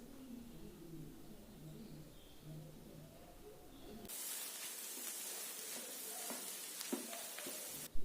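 Egg is stir-fried on full flame for street-food-style chicken noodles, a quiet background suddenly giving way to a loud, bright, continuous sizzle with repeated spatula scrapes, ending in a sharp knock.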